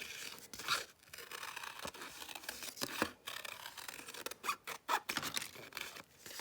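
Scissors snip and crunch through a paper plate in a kids' craft, cutting out a duck head shape; close, irregular cuts with short pauses between strokes, no voices.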